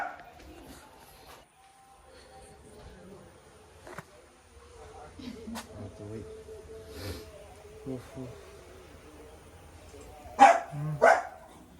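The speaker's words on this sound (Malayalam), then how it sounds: "എന്താടാ കിടന്ന് കുരയ്ക്കുന്നേ?" A dog barks twice near the end, loud and close, after quieter indoor rustling and faint activity.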